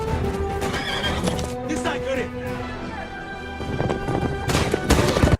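A horse in a Western battle scene from a film neighs loudly and gallops with clip-clop hooves amid a dense, busy mix of action sounds and speech.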